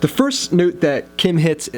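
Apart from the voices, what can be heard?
No everyday noise stands out behind the speech.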